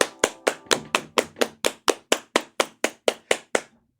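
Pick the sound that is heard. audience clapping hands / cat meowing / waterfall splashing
audience clapping hands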